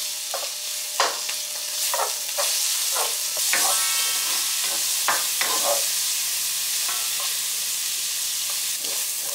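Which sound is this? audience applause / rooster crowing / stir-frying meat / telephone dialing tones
stir-frying meat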